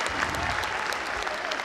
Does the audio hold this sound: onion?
no